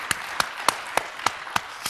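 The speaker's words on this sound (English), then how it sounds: "You can go, you can clap, you can clap." A slow round of single claps at a SharePoint Conference 2014 tech session, seven sharp, evenly spaced hand claps about a third of a second apart, fairly close and clear, with no voices.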